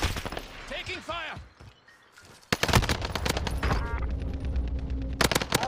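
Rapid bursts of gunfire from a first-person shooter video game, loud and dense, with a brief lull midway before sustained automatic fire resumes, mixed with game sound effects.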